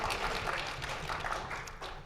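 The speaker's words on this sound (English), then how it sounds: "Clap please," Dense crowd clapping at a gaming convention panel, a continuous patter of many hands at moderate level that tapers slightly toward the end, with no talk over it.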